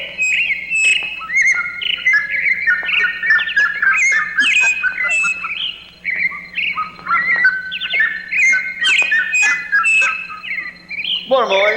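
Several songbirds sing with busy chirps, squawks and whistled phrases, one overlapping the next in a continuous dense chorus, fairly close and loud, with no talking.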